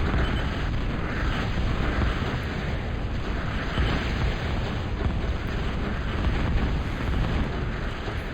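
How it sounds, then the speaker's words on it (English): Sustained, dense rumble of carpet-bombing explosions from a T2 bomber run in a 4v4 Escalation real-time strategy match on the Chilly Rivers map, a loud continuous roar of overlapping blasts with no clear gaps. "Nice little carpet bomb swing."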